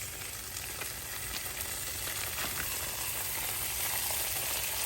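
Ground beef with softened, caramelizing onions sizzles in hot oil in a pan, a steady close crackle and hiss that holds evenly throughout with no voices.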